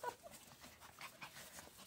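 Pug and Belgian Malinois puppies whimper and pant softly in quick, faint, repeated whines close by, with no talking.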